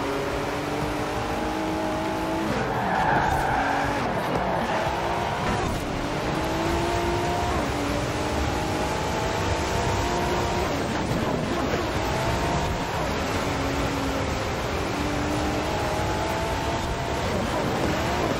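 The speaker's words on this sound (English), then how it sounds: "all these other guys are sliding, I'm still in it with my all-wheel drive Ford GT" An all-wheel-drive Ford GT races in Forza, the engine roaring in a dense, noisy blend with rising and falling pitch sweeps while the car slides through corners, continuous and loud throughout.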